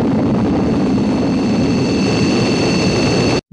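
Roaring rocket engines of SPECTRE's Bird 1 spacecraft from the James Bond film You Only Live Twice, a loud steady jet-like rush with a high whine, cutting off abruptly at the end.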